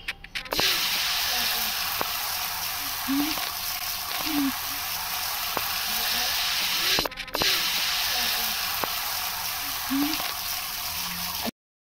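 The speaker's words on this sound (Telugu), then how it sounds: "ఇప్పుడు మనము ఆమ్లెట్ వేసుకున్నాం. బాగా మిక్స్ చేసినాం." Steady hissing sizzle of an omelette frying in a hot pan, continuous and fairly loud, with occasional soft clinks from a utensil.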